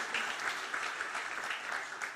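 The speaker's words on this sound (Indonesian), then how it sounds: "Beri tepuk tangan dulu buat Tuhan Yesus." A church congregation at a worship service applauds together, a steady, dense wash of clapping filling the room without a break.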